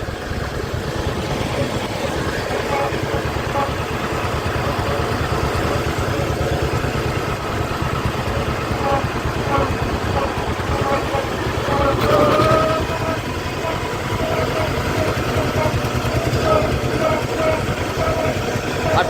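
A John Deere 520 tractor engine runs steadily in a farmyard at its original homestead, a continuous low mechanical drone at moderate volume with no break in rhythm.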